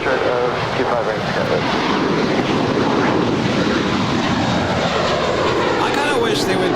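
Airliner jet engines roaring steadily at Los Angeles airport, a loud continuous broadband rumble with wind buffeting, while people talk over it.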